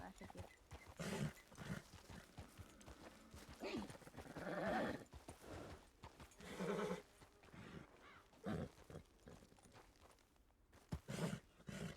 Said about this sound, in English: This horse is not happy.